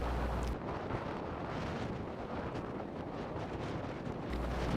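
Strong wind on a high Tibetan mountain pass roars and buffets the microphone in a continuous, loud rush, gusting unevenly with no other sounds standing out.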